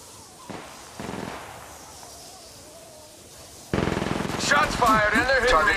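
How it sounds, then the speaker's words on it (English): Gunfire in the mobile game Apex Legends Mobile: a few quiet shots early on, then a loud rapid automatic burst near the end, mixed with in-game voice lines. "Shots fired, and I killed an enemy."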